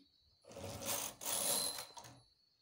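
A knitting machine carriage sweeps across the needle bed while making a sock, one smooth whirring, rubbing pass that swells, dips briefly, then rises again before fading, close and alone.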